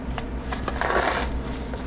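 Standard white dice from a Warhammer 40K starter set rattle and clack together as they are handled, a close, bright burst of small plastic clicks with no talking.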